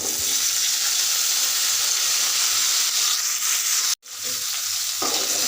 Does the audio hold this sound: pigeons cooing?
no